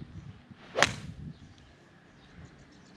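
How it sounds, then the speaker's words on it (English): A single sharp swish and strike as a 4-iron swings through a golf ball into a cheap practice net outdoors in a light breeze, followed by quiet. "okay, we'll hit the 4-iron"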